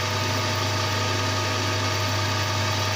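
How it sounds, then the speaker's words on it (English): A lathe turning at 120 RPM parts off a thrust washer, giving a steady, loud mechanical drone with a constant low hum and broadband grinding noise throughout. "we found our sweet spot, parting off the thrust washer."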